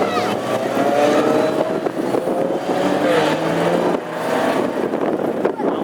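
Classic hot rod race cars roll into the lap start of a Grand Prix final in Tipperary, their engines droning and rising in pitch together. A commentator talks over the steady, loud mass of engine noise.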